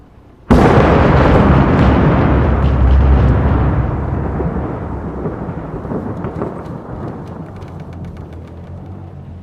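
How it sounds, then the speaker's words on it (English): A huge thunderclap in the horror game Layers of Fear Remake breaks suddenly out of near silence, then rumbles deep and loud for several seconds before slowly trailing off into distant crackling. "That was by far the loudest thunder I've ever heard in a video game before"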